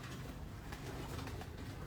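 Pigeons from a Multan breeding loft coo softly and steadily, faint low murmurs that go on without pause.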